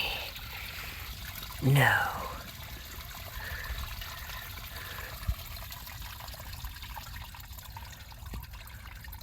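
Water rushes and trickles steadily from a drain during plumbing work, with one louder splashing burst early on and a faint thud later, while someone speaks briefly.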